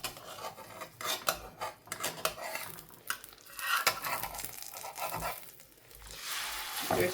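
A metal spatula scrapes and clicks against a pan while an egg omelette is flipped, the sharp taps and scrapes coming in irregular bursts, close and fairly loud, with no one speaking.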